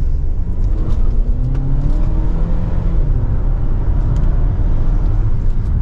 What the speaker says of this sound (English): let's go ahead now and get the all new Hornet out on the road